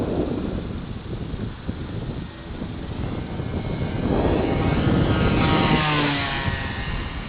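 A Dynam P-47 Thunderbolt RC model airplane buzzes past, its engine drone swelling as it nears and then fading, with steady wind noise over the microphone.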